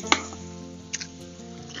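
Knife slicing through a red onion on a cutting board: one sharp crisp cut near the start, then a softer second cut near the middle, close by and fairly quiet over a steady low background hum.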